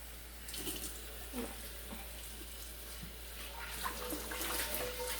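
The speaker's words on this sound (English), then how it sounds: "And I'm going to rinse this." A cast iron pan is rinsed under a running kitchen tap, the water hissing and splashing in a steady stream with soft scraping and clinks, fairly quiet and close.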